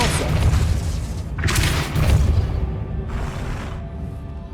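Depulso force spell cast in Hogwarts Legacy, a couple of heavy booming whooshes bursting over a constant loud rumble of game sound.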